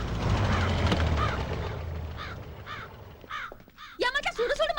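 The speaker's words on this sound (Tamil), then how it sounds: "மேல படுத்த காக்கா கீழ வருது" Crows caw several times, each call short and rasping. The calls start faint behind a rumbling background, then get louder and come faster as the clip ends.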